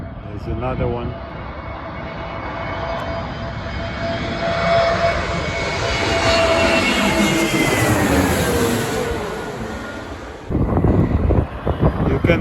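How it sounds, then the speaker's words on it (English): A large airplane flies overhead in gusty wind, its engine roar steadily building and peaking before cutting off, while a person talks over it near the microphone. "You can see how the plane is not flying straight because it's windy."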